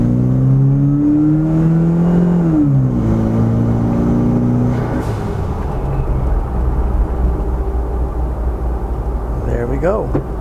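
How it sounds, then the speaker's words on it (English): A turbocharged Toyota 4Runner with a 3RZ-FE engine accelerates, its engine note rising and falling through the revs, loud and close inside the cabin. A voice talks over the first half. "Now we're going to be turning, giving it some acceleration."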